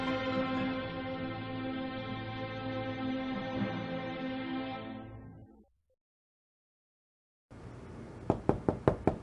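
Knocking on a door in the video game Evil Under the Sun: a sustained musical tone fades to silence, then five or six crisp, evenly spaced knocks ring out close and clear.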